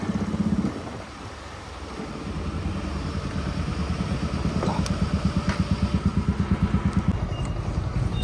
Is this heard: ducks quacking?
no